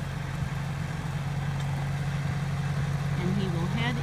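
A tractor engine idles with a steady low rumble while being hooked up to a hay wagon loaded with round alfalfa bales, with a faint higher whine near the end.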